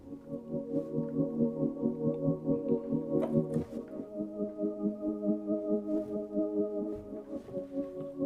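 A soft, mellow triangle-wave synthesizer tone pulses in a steady repeating rhythm, gentle and hollow-sounding, with a brief pitch change midway, no voices.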